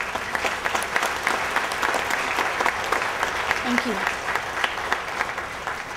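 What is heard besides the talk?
audience applause at school promotion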